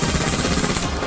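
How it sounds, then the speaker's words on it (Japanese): Rapid gunfire from the video game Call of Duty: Black Ops 3, a dense continuous burst of shots with game sound filling the background, loud and steady throughout. "銃声が聞こえた。"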